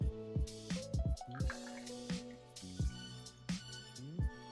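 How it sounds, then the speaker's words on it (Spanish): Martini sweet vermouth, about 20 ml, pours into a cocktail shaker, giving a series of bright, close liquid plinks and trickling splashes with rising pitch as it fills, fairly quiet and without talk. "en nuestro shaker vamos a agregar 20 mililitros de nuestro vermut dulce"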